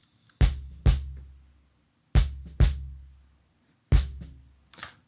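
Gated kick drum from a mixed track hits in pairs, each thump booming low and cut off cleanly into silence between the pairs, with faint traces of other kit sounds.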